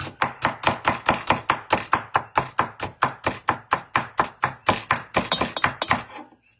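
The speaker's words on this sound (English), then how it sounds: "So that's the way you actually chop vegetables, all types of vegetables, all types of fruit" A chef's knife chops vegetables on a cutting board in a steady run of about two dozen crisp, evenly spaced knocks, close and loud, finishing with a few quicker strokes before stopping.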